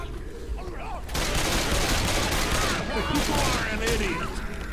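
Rapid gunfire bursts in Left 4 Dead 2, a dense loud clatter of repeated shots running almost continuously after a quieter first second, with voices mixed in.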